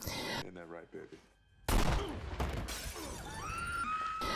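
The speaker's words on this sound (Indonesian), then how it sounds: "Baby tiba-tiba mengeluarkan senjata dan menembak Buddy tepat di arah dadanya." A gunshot in a film scene lands as a sudden loud crack with shattering debris, in a tense sequence with quiet dialogue before it and ringing, clattering aftermath after.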